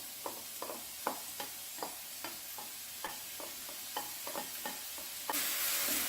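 Garlic and mushrooms sauté on medium heat in a pan, a steady close sizzle broken by repeated spatula scrapes and stirs in an uneven rhythm, with the frying hiss swelling louder near the end; no one speaks.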